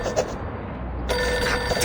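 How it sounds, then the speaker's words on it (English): Telephone bell ringing in the video game Reverse: 1999, a brief ring that stops and then starts again, sounding clear over a soft game ambience. "Pick up the phone, you hear?"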